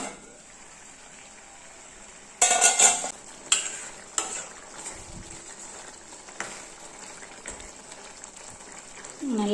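Tomato thokku being stirred in a pan as it cooks down in oil, with intermittent scraping and stirring bursts over a low background sizzle.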